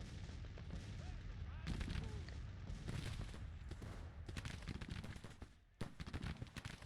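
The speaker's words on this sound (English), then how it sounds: "I want to have you bombard right there, I guess" Artillery bombardment from a Civil War battle at Springfield, Missouri in the strategy game Grand Tactician: The Civil War, with repeated booming volleys and gunfire bursts over a continuous battle din, several sharp blasts clustered near the end.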